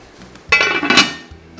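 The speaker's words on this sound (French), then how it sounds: "on met à feu doux et on couvre." A lid set onto a cocotte pot holding veal roast, a single close, bright metallic clang with ringing overtones and a brief rattle as it settles, with no talk.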